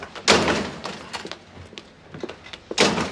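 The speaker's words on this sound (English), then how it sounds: "I never figured you for the silent door slamming type" A door slams shut in a sitcom apartment scene, with a sharp broadband thud near the start and a second loud bang at the end, separated by quieter shuffling and small knocks.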